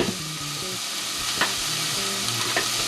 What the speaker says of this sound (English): add your onions and cook them until those are translucent